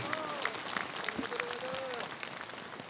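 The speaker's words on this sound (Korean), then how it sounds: "힘찬 박수를 보내주시기 바랍니다" A large crowd applauds at a nationwide Korean Buddhist monks' rally held in the street, with continuous, moderately distant clapping throughout and a faint voice rising briefly above it.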